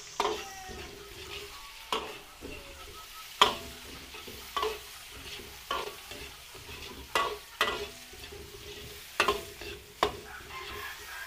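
Onions sautéing in a pan for a Filipino-style dish: a steady, close sizzle broken every second or so by sharp scraping stirs of a spatula against the pan.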